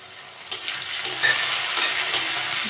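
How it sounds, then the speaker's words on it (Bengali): Prawns sizzle and fry in hot oil with onion in a pan, a steady close crackle with a few sharper spatters and stirring scrapes, no talking. "একটু ভেজে দেবো। চিংড়ি মাছটা দিয়েছি।"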